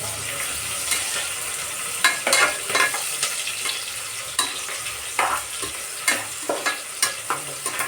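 Soya chunks and onions stir-fried in a pan give a steady close sizzle, with repeated scraping stirs and clattering strokes of the spatula throughout.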